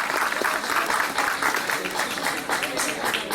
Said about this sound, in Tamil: ஆகவே அவங்களுக்கு ஒரு கைத்தட்டலை நம்ம எல்லாருமே கொடுத்துடலாம்.